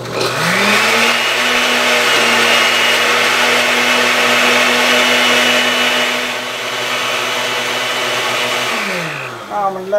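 An electric blender runs steadily with a loud, continuous motor whine, churning leaves with water for a smoothie, its pitch holding level before winding down near the end.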